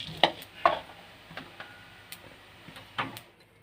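Spices and curry seasoning crackling in hot oil in a pan, with a few sharp pops and spits at irregular intervals over a low, quiet sizzle.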